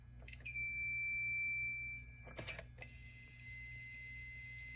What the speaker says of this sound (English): The EFM enunciator likes to beep after silence because it considers alarm silence a trouble